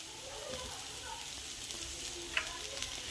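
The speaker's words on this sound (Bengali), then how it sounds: "এখন আবার একটু ভেজে নেবে যাতে হলুদের গন্ধটা না থাকে" Grated coconut with turmeric and salt frying in a pan, giving a quiet, even sizzle with light stirring scrapes and a small clink toward the end.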